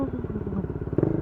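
A Bajaj Dominar 400, a 400cc motorcycle, rumbles steadily through the Kaybiang Tunnel in the Philippines, its pulsing engine note close and continuous, swelling louder near the end.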